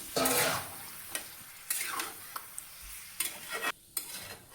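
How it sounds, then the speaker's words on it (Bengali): Chicken pieces sizzle in a pan while a spatula stirs and scrapes through them, producing several distinct bursts of scraping and clattering against the pan over a soft background of frying. "ভালো করে নাড়া দিতেছি ভালো করে নাড়ায় নিতে হবে"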